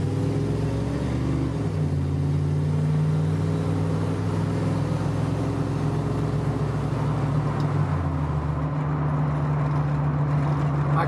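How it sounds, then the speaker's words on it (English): A Chevy OBS pickup truck driving with a rusty, freshly welded exhaust, a loud, steady low engine drone that drops in pitch as the transmission shifts, with brief talk. "The exhaust is actually sounding pretty good too."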